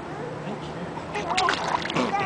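Water splashes and sloshes in bursts, growing livelier toward the end, with a voice and soft background chatter mixed in.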